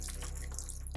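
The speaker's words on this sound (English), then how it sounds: "I'm going to make you watch me water this a little bit longer." Water pouring steadily from a can or tap into the potted soil of a Monstera Thai Constellation, a continuous close splashing trickle with soft drip-like flutter, no talking.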